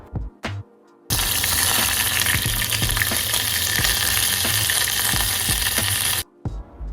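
Spices and lemongrass sauté in a wok with a loud, dense, steady sizzle of about five seconds, bracketed by short quiet gaps with light clatter.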